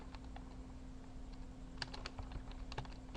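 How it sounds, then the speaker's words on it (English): Quiet keystrokes on a computer keyboard while entering Java code, soft irregular clicks over a steady electrical hum, with a small flurry of taps near the end. "I'll type in yes"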